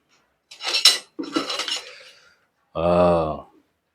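Used steel files, salvaged as material for a Javanese katana, clink and rattle against each other in two short bursts of metallic handling, followed by a clear ringing metal tone, close and fairly loud.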